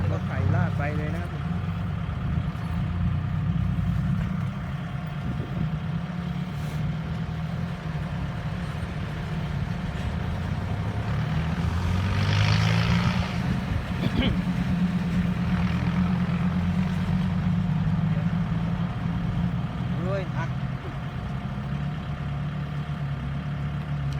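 Tractor engine idling and running steadily while it pulls a felled tree during excavator tree-clearing work, a continuous low rumble throughout, heard under someone talking at intervals.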